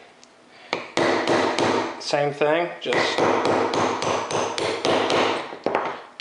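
Rapid metallic hammer blows on a punch driving out a pin on an Apex forward set sear and trigger assembly, steady close taps with a brief pause, someone speaking briefly over them.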